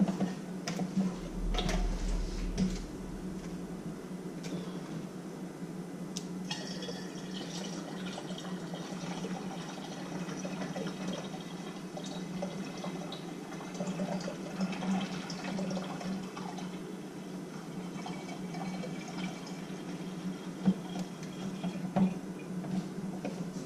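Wine pours steadily into a jug in a continuous gurgling stream over a low background hum, with no one talking.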